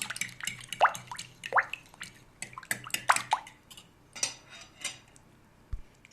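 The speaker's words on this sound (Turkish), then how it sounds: "Şimdi çatalla güzelce çırpıyorum" A fork whisks yogurt sauce in a bowl, giving light, irregular clinks and wet taps against the dish, close and fairly quiet.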